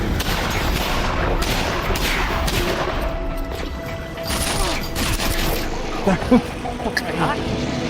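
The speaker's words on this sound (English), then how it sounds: "I throw a fucking grenade" Grenade blast in the VR game Half-Life: Alyx on hard mode, heard amid a busy, noisy mix of bursts, crashes and mechanical clatter, with a few sharp impacts near the end.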